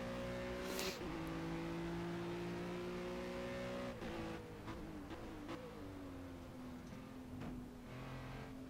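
Ginetta GT4 race car in the Project Cars racing game, its engine holding a steady high rev before dropping and climbing through gear changes, a sustained buzzing drone with faint tire noise, fairly quiet.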